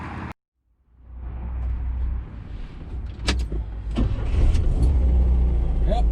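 After a moment of silence, a car's engine starts up and builds into a steady rumble that grows louder, with a few sharp clicks and knocks from inside the cabin.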